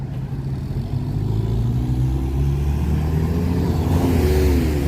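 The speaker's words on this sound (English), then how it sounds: "There's traffic moving on Lakeshore Drive" Road traffic moving along Lakeshore Drive in Chicago: a car engine revs and accelerates close by, its pitch rising over a steady, loud rumble of passing vehicles.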